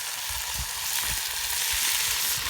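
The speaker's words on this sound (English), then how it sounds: "we're going to give it a good stir" Brunswick stew sizzling in a pot with a steady frying hiss, while a stirring stick scrapes and thumps through it in a few soft strokes.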